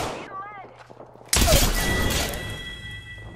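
Gunfire in Apex Legends erupts as a sudden loud burst of shots that rings and decays, following a stretch of quieter game sounds and a voice.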